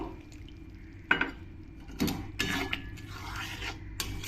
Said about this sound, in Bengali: এই বাটিটাই ধুয়ে আমি একটু জল দিয়ে দেবো